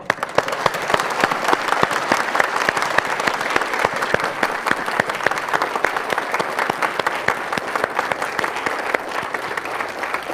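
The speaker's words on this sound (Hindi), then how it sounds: "बहुत बढ़िया, आपके लिए तालियां।" Audience applause fills a spiritual gathering after a group recites Hindi verses, loud crisp claps in a fast, steady rhythm that carry on for around ten seconds without any speech.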